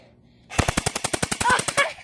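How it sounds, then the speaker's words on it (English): A rapid string of about a dozen gunshots fired at an iPod, evenly spaced, loud and close, bursting out suddenly after a quiet moment and running in a fast rhythm to the end. "So let's shoot it, boy."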